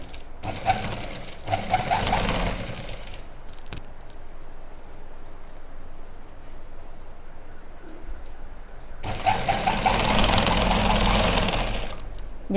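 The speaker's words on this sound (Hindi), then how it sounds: "यहाँ पे इस तरह से रखेंगे और यहाँ पे सिलाई लगाएंगे।" An electric sewing machine stitches a strip onto lined pants in two close, steady whirring runs, one about three seconds long at the start and another of about three seconds near the end, with a quiet pause between and no talking.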